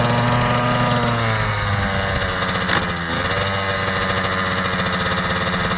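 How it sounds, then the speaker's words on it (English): KTM TC65 dirt bike ridden by a seven-year-old in mud: a loud, close two-stroke engine drone held steady, dipping briefly before revving back up during a second-gear start. "try a second gear start. Shift into second, click it up,"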